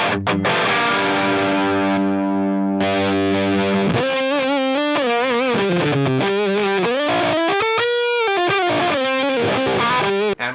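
Overdriven electric guitar through a Klon overdrive pedal into a Marshall Origin 50 amp plays a sustained chord, then a run of melodic lead notes, thick and continuous with a mild crunchy drive.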